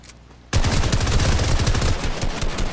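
Fortnite gunfire erupts abruptly as a loud, sustained burst of rapid automatic shots, rattling on densely for about two seconds before easing slightly, with no talking.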